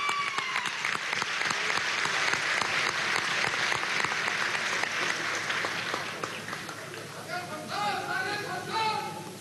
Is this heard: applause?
yes